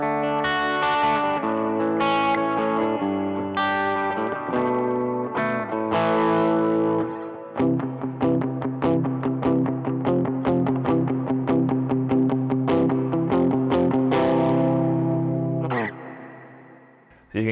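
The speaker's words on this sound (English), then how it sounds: "this is my medium type of reverb" Electric guitar picks out a melody, then quick repeated notes and chords, with a moderate reverb tail washing over each phrase.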